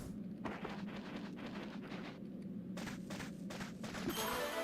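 Cannon fire in Okami HD: a rapid, continuous volley of booming shots, loud and rolling, with dense bursts layered over a rumbling background.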